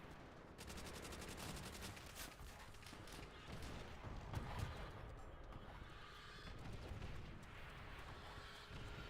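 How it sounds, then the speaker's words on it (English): Rapid rolling bursts of artillery and gunfire from a video game, a dense continuous barrage of crackling impacts and booms with brief sharper shots, heard faint and distant throughout. "This artillery strike sucked."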